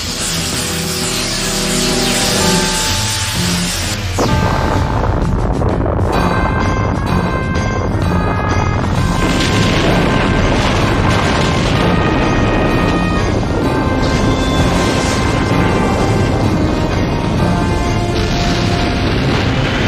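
An anime energy weapon fires at 65% power with a huge roaring blast that becomes a sustained, very loud explosive rumble and crackle lasting many seconds, joined by dramatic tonal effects and swelling music.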